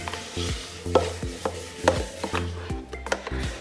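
Cake batter for a cheddar cheesecake, folded with egg whites, is stirred with steady, repeated scraping strokes close up, with soft rhythmic knocks against the bowl and no talking.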